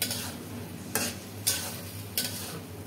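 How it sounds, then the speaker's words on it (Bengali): Cumin seeds fry in hot mustard oil, a soft continuous sizzle broken by three sharp stirring scrapes, close and fairly quiet. "তো এখন তেলে জিরা ফোড়ন দিয়ে দিয়ে দিলাম।"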